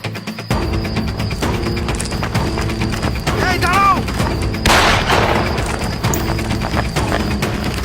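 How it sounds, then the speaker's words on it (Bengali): Gunfire from an army patrol in a drama scene: a sudden sharp burst of shots cuts through a noisy soundtrack of voices and clattering, with people speaking before and after. "দুটো পালাইতেছে ফায়ার করবো স্যার"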